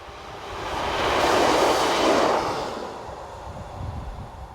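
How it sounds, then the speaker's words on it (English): A Class 153 railcar, number 153314, on a Norwich to Yarmouth service rumbles past with a broad rushing roar that swells, peaks and fades over a few seconds, leaving a steady low hum. "we see railcar number 153314 once more, with the 1236 Norwich to Yarmouth service."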